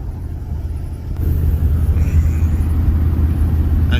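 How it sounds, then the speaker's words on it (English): Low, steady rumble of a truck engine while driving along a road, heard from inside the truck, growing louder and heavier after a second. "On the road, as you see, we are on the road"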